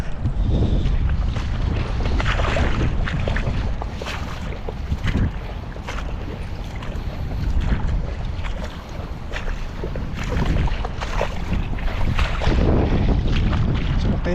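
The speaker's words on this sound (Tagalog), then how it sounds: "Ano lang, mahangin lang." Strong gusting wind buffets the microphone with a loud, low rumble that rises and falls.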